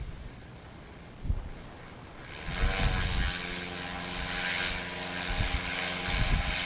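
A STOL aircraft's engine roars up to full takeoff throttle at a competition, starting as a low rumble, then swelling sharply into a loud, sustained propeller drone with steady harmonic tones and a brief thump at the start.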